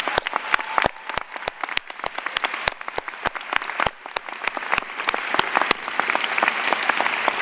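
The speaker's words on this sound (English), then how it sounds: "can we have a big round of applause to all of our speakers?" Sustained audience applause for the speakers at a 2014 School of Business commencement ceremony, dense steady clapping with sharp individual claps standing out across the hall, continuing at full strength throughout.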